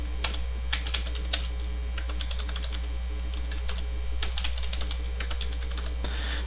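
Password being typed on a computer keyboard during a Windows Server 2008 R2 setup, with quick bursts of clicky keystrokes in uneven clusters and short pauses, close and clear over a steady low hum.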